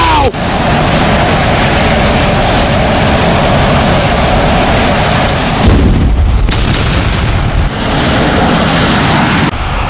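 A rocket launcher fires and explodes in a video game, with loud, sustained booming blasts and a rumbling roar that breaks off briefly and then returns.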